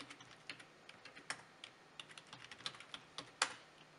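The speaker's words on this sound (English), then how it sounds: "you can type in your credentials" Typing on a computer keyboard, a steady patter of soft, close key clicks with irregular rhythm and one sharper keystroke, quiet and without any talk.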